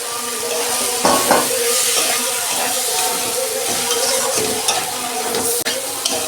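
Vegetables tossed into cooked masala in a pan for a fish curry, sizzling loudly and continuously at close range with stirring and the odd clink of a spoon against the pan.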